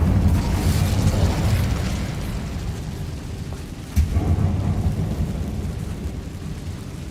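A roaring fire spell cast in Hogwarts Legacy inside a dark abandoned mine, a loud rushing burst that swells, then a sudden thump followed by a steady, fading whoosh of flames.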